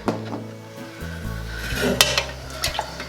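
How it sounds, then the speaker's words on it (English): A utensil stirs essential oils such as ravensara and frankincense in a small container for a chest rub, giving close clinks and scrapes against the container, loud and alone. "I'm just gonna give that a stir."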